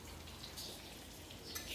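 Rain falls steadily during a spell of bad weather, heard as a faint, even hiss with soft scattered drops and no voices.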